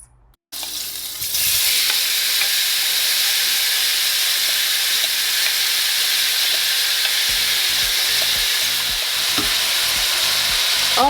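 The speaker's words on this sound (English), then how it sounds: "ASMR cooking sounds, sizzle tingles." Loud, steady sizzling and hissing of shrimp frying in extra virgin olive oil in a hot skillet, continuous throughout with occasional stirring and scraping sounds near the end.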